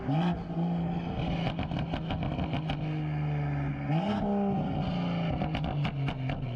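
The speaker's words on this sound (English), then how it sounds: "you get that classic BMW M2 noise, except much clearer and louder. And the cracks and pops are insane" BMW M2 with a catless downpipe, close and loud: a droning exhaust note that rises with revs, broken by sharp bursts of crackling pops and bangs in quick rhythmic clusters.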